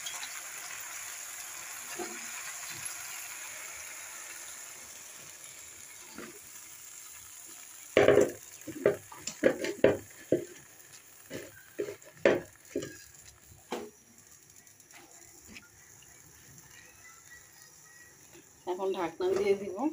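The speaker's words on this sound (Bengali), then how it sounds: "এদিকে মাছটা কষানো হয়ে গেছে, বিসমিল্লাহ, এখন পুঁই শাকগুলি দিয়ে দিতেছি।" Malabar spinach tipped into a pan of cooked, sizzling fish, with a steady low sizzle and then a run of sharp rustling and clattering bursts as the leaves go in, with a voice talking at times.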